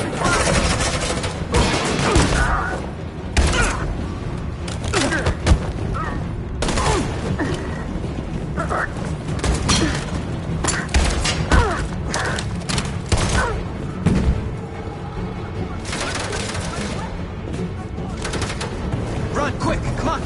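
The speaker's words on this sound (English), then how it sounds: "Suppressing fire!" Suppressing gunfire in the video game Detroit Become Human, a dense battle din of repeated shots, thuds and crashes running steadily throughout with shouted voices mixed in.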